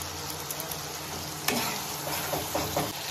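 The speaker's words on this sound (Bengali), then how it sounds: "একটু জল দিয়ে ভালো করে মশলাটা আমি কষে নেব।" Spice masala sautéing with a little water in a pan sizzles and bubbles steadily, with several scraping stirs and clinks of a spatula against the pan, close and continuous.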